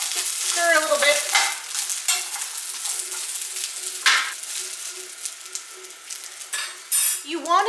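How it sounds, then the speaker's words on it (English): Vegetables for a beef stir fry sizzle loudly in a hot pan while a utensil stirs and scrapes against the metal, with clinks and bursts of frying. "So, you just stir it while it's sizzling."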